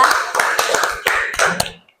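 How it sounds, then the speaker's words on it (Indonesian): Applause for a student group after a classroom presentation: a small group's scattered hand claps, irregular and fairly close, fading out toward the end. "Tepuk tangan untuk kelompok 2."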